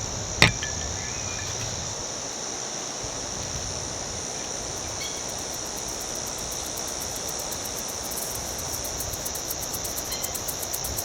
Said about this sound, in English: How's the cicada sounds too? Australia.